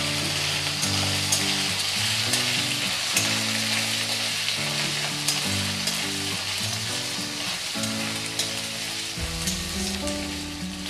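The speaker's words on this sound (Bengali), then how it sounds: "আদাটা আমি একটু ভালো করে ভেজে নেব।" Ginger paste frying with potatoes in a pan sends up a steady, loud sizzle that fills the clip, with stirring scrapes mixed in and faint background music underneath. No one speaks.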